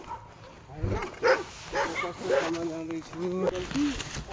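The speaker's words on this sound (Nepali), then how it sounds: "यस्ता कुकुर हुन्छन् जङ्गलमा" Dogs guarding a patch of flat Nepali hill forest let out a few scattered barks and yips, close by but partly buried under a man's ongoing speech.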